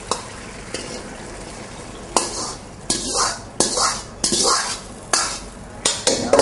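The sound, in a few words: wok stir-frying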